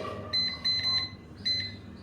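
An air fryer beeping as its timer is set, giving short high electronic beeps in quick clusters, close and clear over faint background hum, with no talk.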